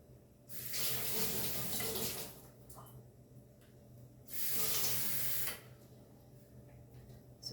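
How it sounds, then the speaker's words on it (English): Water pours into a grinder jar for Goan green coconut chutney in two bursts of splashing flow, each lasting about one and a half seconds, close and fairly loud, separated by quiet. "So adding little bit of water in this."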